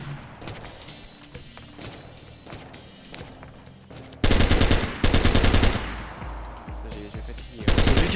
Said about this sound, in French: C'est lui qui tire.